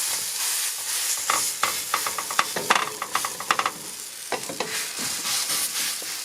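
Food sizzles steadily in a frying pan at a camper-van cooking meetup, with repeated scraping and clattering strokes as it is worked around the pan; fairly close and continuous, no talking.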